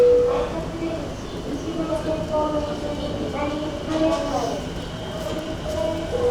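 A monorail train in Chiba, Japan passing with a continuous rumbling hum and faint tonal whine, heard under ongoing conversation.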